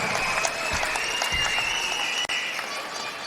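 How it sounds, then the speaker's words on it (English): Crowd at a combat sports bout applauding both fighters after the fight, a dense continuous wash of clapping and cheering from a hall audience, steady and fairly loud throughout. "let's give both of these fighters a big round of applause"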